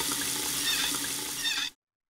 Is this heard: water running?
yes